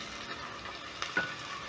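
Potatoes added to golden-brown onions with garlic and ginger, sizzling steadily in a hot pan, a continuous close hiss with a couple of brief stirring scrapes, no talking.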